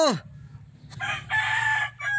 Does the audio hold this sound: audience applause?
no